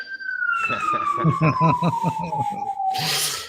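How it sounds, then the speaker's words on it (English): Fire truck siren wailing in a long falling sweep, fairly close, heard under ongoing conversation from two people. "Seem to hear a fire truck at least once a day over here."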